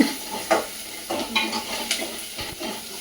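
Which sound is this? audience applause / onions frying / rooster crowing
onions frying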